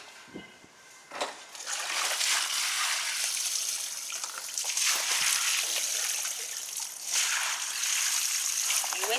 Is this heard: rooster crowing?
no